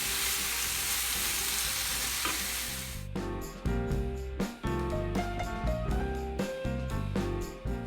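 Vegetables sizzle loudly in a Lodge cast iron skillet for shakshuka, a steady frying hiss joined partway through by clattering stirring and scraping, close up with no talk.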